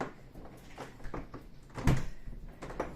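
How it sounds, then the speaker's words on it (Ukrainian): A house door is pushed shut as a dog is called indoors from the cold. A single solid thud of the door closing sits amid rustling movement and shuffling, with no clear speech. "Та закрию двері."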